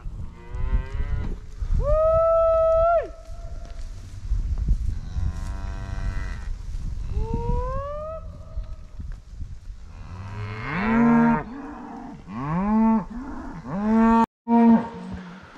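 Cattle being trailed down a canyon on a ranch. They give several long, loud moos one after another, some close and some further off, against quiet open-air background with no talk.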